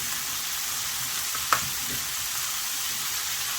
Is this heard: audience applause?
no